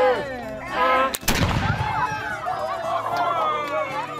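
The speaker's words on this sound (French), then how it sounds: "À la fin de la présentation, un coup de fusil." A single loud rifle shot cracks out near the close of an outdoor historical presentation in the Canadian West, with a sharp report followed by a rolling echo and lingering crowd and voice noise.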